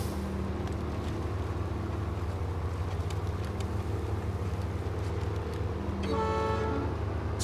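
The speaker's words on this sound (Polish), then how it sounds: "Co to za klakson?" A truck horn sounds near the end of a stretch of steady engine rumble in the off-road driving game SnowRunner, a loud sustained honk of about a second over the continuous motor drone.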